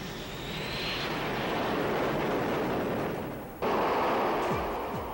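A Grumman KA-6D Intruder tanker jet roars past with a sustained broadband engine rush that swells and fades, then a sudden loud burst of noise continues to the end, with no voices present.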